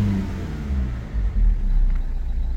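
Renault 1.5 dCi 110 hp diesel engine revving as the throttle is opened, a loud, close, steady low rumble that swells briefly midway, with no talk over it.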